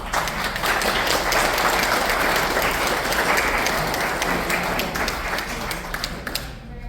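Sustained audience applause at a Parkinson's disease empowerment event honoring physiotherapists, a dense steady clapping from a crowd filling the room for several seconds before tapering off near the end.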